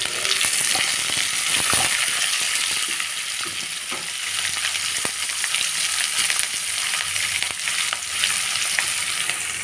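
Oil tempering with lentils and onion sizzling in a pan for a greens and moong dal dish, a constant crackling fry with scattered spatula scrapes and stirs close up.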